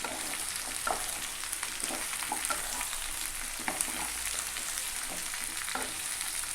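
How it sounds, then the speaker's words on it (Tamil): Pumpkin pieces fry with onions in a pan, giving a continuous sizzle under repeated scraping stirs of a spoon, close and fairly loud. "சேர்த்துட்டு நல்லா கிளறி விட்டுறலாங்க"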